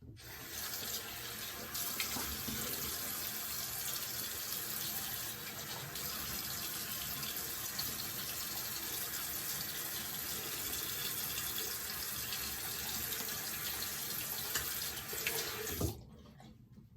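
A bathroom sink tap runs in a steady, full stream while someone washes their face, continuous and close for most of the time before cutting off near the end.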